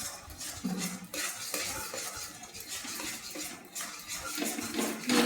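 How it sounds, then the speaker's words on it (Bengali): Ridge gourd peel paste with sugar and mustard oil is stirred in a kadai wok, giving close, irregular scraping and clinking of a spatula against metal with faint sizzling. "স্বাদ মতন চিনি দিয়ে কড়াইয়ের মধ্যে নাড়তে থাকছি"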